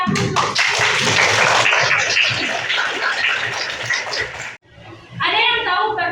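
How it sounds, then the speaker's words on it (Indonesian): A grade 7 Islamic junior high classroom in Indonesia breaks into a burst of dense, rapid clapping from many students that rolls on for several seconds, then cuts off abruptly before a brief second flurry. "Beri aplaus."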